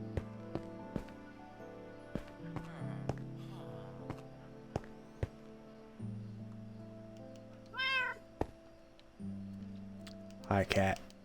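A Minecraft cat gives a couple of short meows amid soft in-game clicks and tones, with a person talking quietly in the background.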